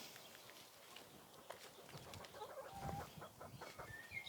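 Chickens cluck in short, quiet bursts at the back of an allotment, several soft calls scattered over a few seconds in a calm outdoor setting.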